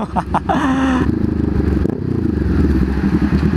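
A Honda CB500X motorcycle engine runs while someone rides it on the road, producing a loud, close, continuous rumble with some rattling and wind noise throughout.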